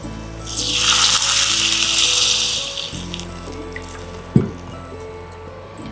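Water pours with a bright splashing hiss for about two seconds into a cooking pot with turmeric, then fades to a low simmering bubble over a steady hum.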